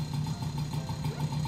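A Honda Motocompo scooter's small engine idling just after a kick start, a close, steady, buzzing putter with an even pulsing rhythm that holds throughout.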